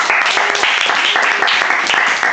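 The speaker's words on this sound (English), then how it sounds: "Clap. Please clap." An audience at a talk event breaks into dense, loud applause, many hands clapping steadily for a couple of seconds without a break.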